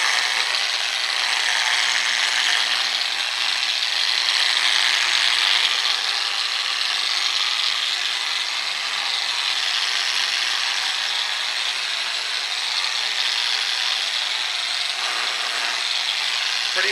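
A 1000 grit polishing pad spins against a granite surface, giving a steady, continuous high whirring grind that holds an even level throughout without pauses.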